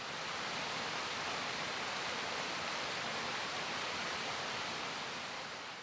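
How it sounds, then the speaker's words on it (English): Proctor Creek flowing near its mouth at the Chattahoochee in Atlanta, a steady broadband rush of moving water, constant and fairly loud, with no voices. "Behind me, you can see Proctor Creek itself, shortly before it empties into the Chattahoochee."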